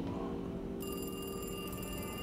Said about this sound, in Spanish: ¿Está sonando el teléfono?